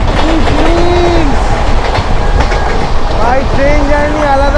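Saraighat Express passenger train running on tracks near Bally station, with a steady loud rumble and rhythmic wheel clatter throughout, and brief rising tonal squeals or horn-like whistles at the start and near the end.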